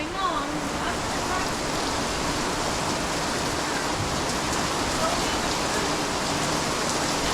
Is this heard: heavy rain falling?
yes